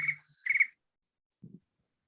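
Phone alert tone imitating chirping crickets: two short bright trilling chirps in quick succession, clear and close, followed by a brief soft low thump and silence.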